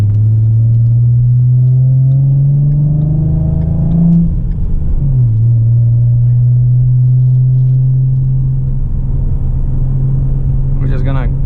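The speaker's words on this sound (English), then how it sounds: "We're just gonna go briefly on the freeway so you guys can hear the acceleration." A V6 car with a K&N air filter and an X-pipe exhaust accelerates on a freeway: a loud, close engine drone climbs in pitch, drops at a gear shift, then settles into a steady cruising rumble.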